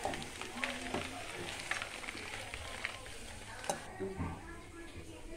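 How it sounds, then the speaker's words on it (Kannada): Green chillies frying in oil in a pan while making ginger pickle, a steady close sizzle with crackles and occasional stirring clatter, under a person talking. "ಮೆಣಸಿನಕಾಯಿ ಚೆನ್ನಾಗಿ ಉರ್ಕೊಳ್ಳೋಣ ಎಣ್ಣೆ ಸ್ವಲ್ಪ ಬಿಟ್ಟು ಚೆನ್ನಾಗಿ ಉರ್ಕೊಳ್ಳೋಣ"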